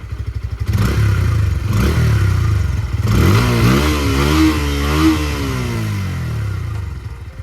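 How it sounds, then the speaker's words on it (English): A Bajaj Pulsar P150 motorcycle with its 150cc engine and underbelly exhaust, close by and loud, idling roughly before being revved several times, the engine note rising and falling in swells. "I'll rev up the bike a little bit."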